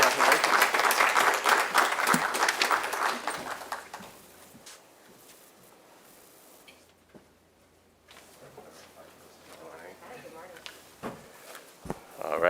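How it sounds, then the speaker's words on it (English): An audience at a morning committee meeting applauds a new executive director's appointment, a loud burst of clapping that fades after a few seconds into quieter room sounds and scattered movement. "I know you just gave her a round of applause"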